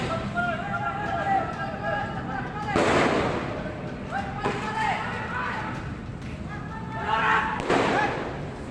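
Police fire several gunshots at night outside a port police headquarters in Makassar, a few sharp bangs standing out at intervals amid shouting and tense voices.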